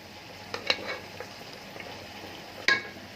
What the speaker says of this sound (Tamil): நெய் எண்ணெய் ஊற்றி அப்படிதான் மணக்கு பட்டை கிராம்பெலாம் போட்டு தாளிக்கிறேன்